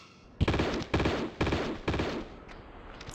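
Four evenly spaced bursts of gunfire in Tomb Raider II, each a sharp loud crack with a decaying tail, heard close and clear with no speech over them.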